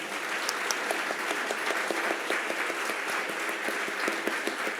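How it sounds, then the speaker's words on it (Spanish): Sustained applause from a church congregation during a Spanish-language worship service, dense steady clapping with scattered louder claps, fairly close and filling the whole stretch without talk. "Denle un aplauso al Señor entonces."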